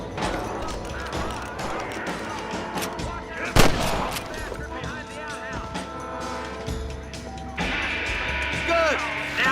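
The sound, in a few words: gunfire in the video game Red Dead Redemption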